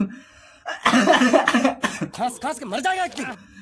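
A harsh cough bursts out, followed by a person talking in an animated voice.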